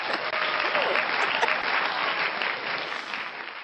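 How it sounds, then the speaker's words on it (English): Short burst of audience applause, steady dense clapping at moderate volume throughout, tapering slightly at the end. "Let's all give Karin a big round of applause, right?"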